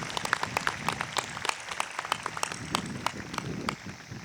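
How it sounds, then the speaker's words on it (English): Graduation audience applauding for a class of 2021 ceremony, a steady patter of many hands clapping at moderate distance, sustained for a few seconds without talk. "let's give them all a big round of applause."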